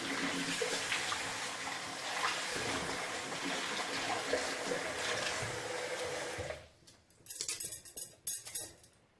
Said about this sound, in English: I'm going to rinse my mouth out now.